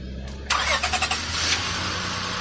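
A high-mileage car bought at auction cranks with a quick rhythmic stutter from the starter, then its engine catches and settles into a steady close idle.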